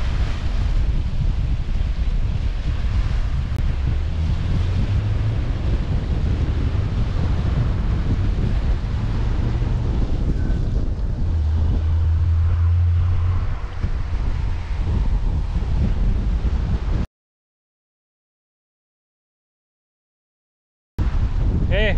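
Atlantic Ocean surf and strong wind at a seawall in Guyana, with a big ship offshore: a steady loud roar of waves and wind buffeting the microphone, continuous for about 17 seconds before a brief gap.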